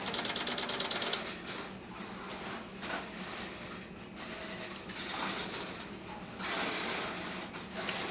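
Relays and step-by-step switches clatter inside a 701B step-by-step PBX telephone exchange, with a rapid burst of ticking clicks at the start and then sustained mechanical rattling and whirring, fairly close and with no talk.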